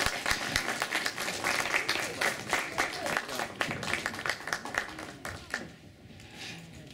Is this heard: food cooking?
no